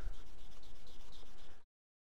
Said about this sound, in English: I think I've sanded that to death with the green.